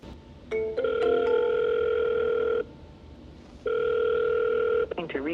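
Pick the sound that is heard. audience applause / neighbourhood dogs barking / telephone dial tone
telephone dial tone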